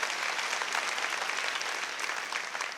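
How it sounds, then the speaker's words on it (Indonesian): A church congregation applauds loudly and steadily, a dense wash of many hands clapping together without pause for the whole stretch. "Tepuk tangannya yang paling meriah buat Tuhan."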